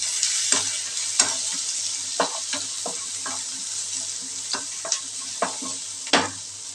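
Chopped vegetables with green chillies being stirred in a pan of hot oil, a steady sizzle broken by repeated sharp scraping strokes of the spoon, close and alone with no talking.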